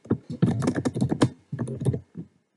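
Quick bursts of keystrokes on a computer keyboard, typing into a spreadsheet cell in Excel, close and crisp with a brief pause midway.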